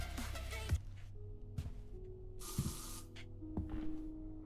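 A horror video game spray effect gives short hissing bursts, with one longer, louder spray in the middle, over low droning game tones and occasional thuds.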